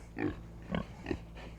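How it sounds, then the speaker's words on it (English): Pigs in a feeder pig pen on a small farm, a young one from a recent litter and a big one, giving three short grunting oinks spaced about half a second apart, close and moderately loud over a steady low background hum. "And over here in the feeder pig pen, we've got this little one from this last litter, and this big guy right here."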